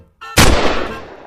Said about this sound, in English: threw a firecracker at potassium, causing a loud explosion in the room